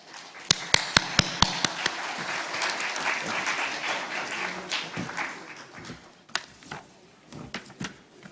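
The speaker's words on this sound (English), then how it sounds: "Please give a round of applause." Audience applause at the Nepal Investment Summit 2024, opening with a few sharp individual claps before building into steady clapping from a seated crowd that thins out into scattered final claps.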